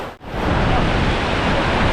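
A waterfall in boggy Scottish countryside roars as a dense, steady wash of rushing water, loud and close, with no voices.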